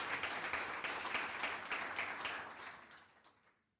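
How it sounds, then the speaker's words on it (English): An audience at a book review event applauds the author, a steady wash of clapping that gradually fades away toward the end. "Can we give a round of applause to Ms. Bulelwa for that?"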